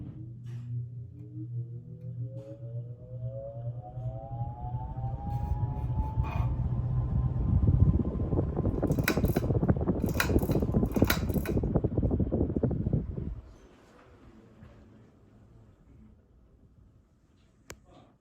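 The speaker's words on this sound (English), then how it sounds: "Let's do another startup so you can hear the motor again." An Emerson 47641 antique ceiling fan motor starts up with a rising whine that climbs in pitch over several seconds, then settles into a loud steady hum with light ticking before it cuts off abruptly and leaves quiet room tone.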